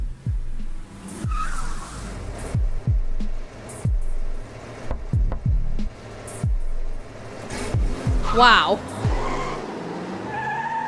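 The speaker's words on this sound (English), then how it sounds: "I'm in a police car right now, aren't I?" A car in the video game Virginia drives along with engine surges and repeated skidding thumps, loud and close, while a person exclaims over it.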